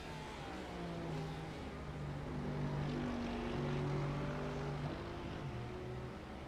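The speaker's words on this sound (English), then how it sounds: "Let's see how close we can get in on Josh Rogers' car as he goes through the infield." A GT3 race car drones through the infield at Daytona during an endurance race, a faint, steady engine hum heard from a distance whose pitch rises and falls gently as it moves through the section.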